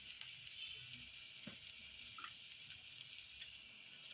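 Brown chana frying in a pan, a faint steady sizzle with a few soft pops and stirring clicks close by.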